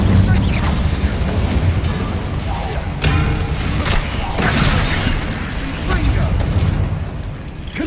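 Repeated spell blasts from Hogwarts Legacy, the Confringo and Incendio casts, go off in quick succession as booming bursts and crackling pops over dense game noise, with a voice calling out spell names throughout.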